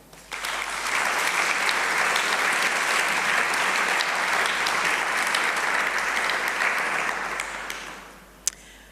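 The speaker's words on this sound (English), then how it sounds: "I just wanted us to give a round of applause to the 13 who were shortlisted" Sustained audience applause fills a hall for about eight seconds at a democracy prize ceremony, steady and full from start to finish before tapering off, with one sharp clap near the end.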